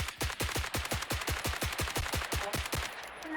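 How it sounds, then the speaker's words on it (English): An M110 rifle on a bipod firing in the game BRM5, a rapid, evenly spaced string of about seventeen loud, close shots with no pauses, ending abruptly. "this is the recoil control for the M110 with the bipod"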